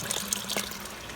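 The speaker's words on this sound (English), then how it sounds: "So what I'm doing, obviously, is trying to filter out the junk out of the water." Water running through a homemade filter on a greenhouse setup, a short close trickling and splashing with a few brighter drips.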